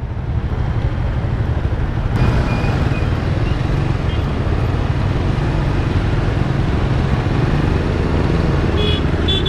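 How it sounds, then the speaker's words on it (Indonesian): A car passes on a road at night in Jogja, heard from a Suzuki GSX-R 150 motorcycle, its steady broadband road and engine roar loud and constant throughout with a faint tonal whine near the end. "Mobil lewatnya dari sana."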